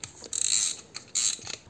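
Drag nut being unscrewed from a Daiwa N'Zon 20 6000SS-P spinning reel, two quick bursts of close, bright mechanical clicking with faint handling noise between them.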